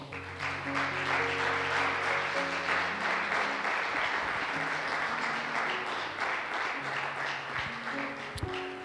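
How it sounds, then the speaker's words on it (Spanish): A church congregation claps for the Lord during a sermon, a steady wash of applause beneath sustained music chords, moderately loud and continuous. "Dale un aplauso al Señor."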